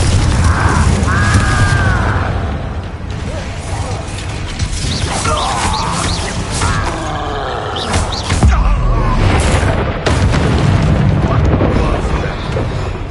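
Confringo fire spells blasting during a Hogwarts Legacy duel, loud repeated explosive booms and crackling impacts mixed with shouted voices and game effects.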